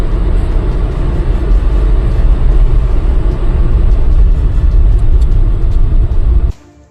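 A black Mahindra Thar SUV driving ahead on the road at night, a loud, steady low rumble of engine and tyres from close by that cuts off abruptly near the end.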